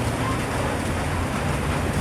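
Heavy rain pouring into a roofless building, a dense constant wash of noise that is steady and fairly loud throughout.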